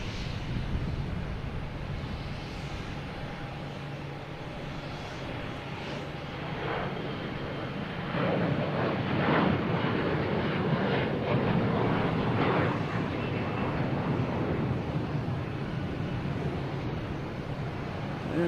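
An American Airlines Embraer E175 jet takes off at Boston Logan, its engine roar building from a distant rumble to a louder, broad sustained rush partway through.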